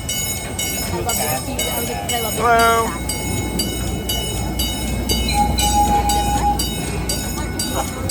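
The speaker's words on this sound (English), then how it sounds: "Come on, train, you're holding me up." A train passes a waiting crowd at Busch Gardens Williamsburg amusement park, its cars rumbling steadily with squealing wheels, ringing tones and one long whistle-like note, while people chatter nearby and one person speaks briefly.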